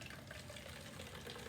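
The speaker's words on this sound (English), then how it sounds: "I will go ahead and pour 200 milliliters of hot water into the" Hot water pours from a coffee pot into a plastic pop bottle, a continuous close splashing gurgle that runs steadily throughout without speech.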